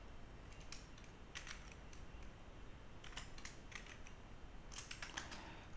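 Typing on a computer keyboard during a programming lesson, quiet bursts of keystrokes in irregular runs over a soft background hiss, with no talking.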